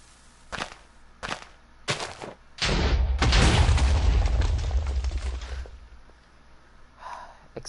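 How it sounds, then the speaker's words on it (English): Explosions in the Minecraft video game: a few sharp bangs followed by a loud, rumbling blast that swells and slowly fades, with no talking. "Explosions are funny."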